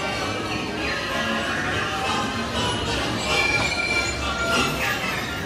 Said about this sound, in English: Here's our runaway train.